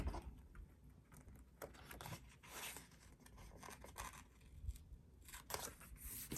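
Scissors snip and rasp through paper for an art journal, a series of faint, close crisp cuts and rubbing sounds with short pauses between strokes.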